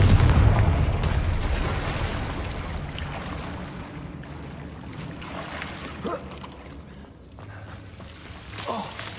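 A Confringo fire spell blast in the video game Hogwarts Legacy: a heavy, rumbling boom at the start that fades out, followed by a few sharper, quieter bursts later on.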